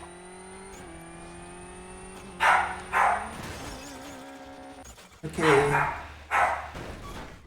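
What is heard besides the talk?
dog barking in the background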